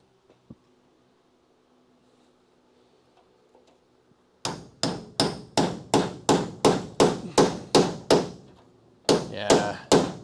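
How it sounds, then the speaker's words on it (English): A hammer taps a part into place during a Crew Cab Charger car restoration: near-silence, then a run of about a dozen loud, evenly spaced metallic knocks, a pause, and a few more blows. "Just give it a little tappy."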